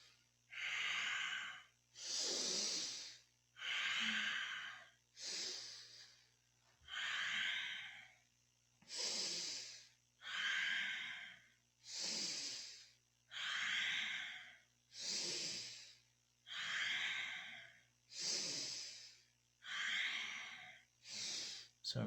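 Deep, slow yoga breathing during a Kundalini spinal flexibility stretch, about a dozen long airy exhales and inhales alternating in a steady rhythm, close and clear over a faint low hum.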